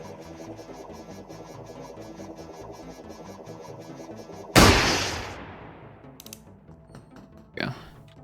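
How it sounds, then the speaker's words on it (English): A single sharp, loud gunshot cracks out from the video game Receiver 2 midway through, its echo decaying over a low musical hum, followed by smaller mechanical clicks and a brief thud. "I'm gonna shoot you."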